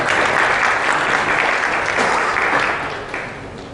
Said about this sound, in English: We all welcome Dr. Narayanan with a round of applause.